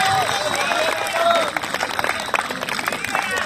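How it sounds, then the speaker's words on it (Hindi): Audience claps and cheers at a comic Hindi poetry gathering in Kolkata, a dense wash of applause mixed with crowd chatter, loud and close throughout, with voices talking over it. "तो तालियां वालियां बजाओ अगर ये वॉलीबॉल वालों तक भी आवाज जाए।"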